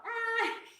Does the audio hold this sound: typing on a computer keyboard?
no